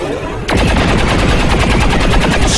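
A long burst of rapid automatic gunfire in the video game XCOM 2 starts abruptly after a short lull and keeps up loud and dense to the end, with no voices.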